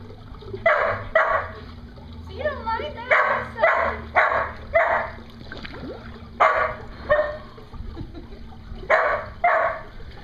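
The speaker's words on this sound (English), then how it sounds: "Wiener dog in the pool." A dachshund in a swimming pool barks in repeated sharp bursts, mostly in pairs and threes with short pauses. Faint water and splashing sounds run underneath.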